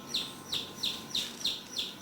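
A chick peeps from inside its unhatched egg: six evenly spaced, high, sharp chirps, roughly one every third of a second, clear and close against a quiet background.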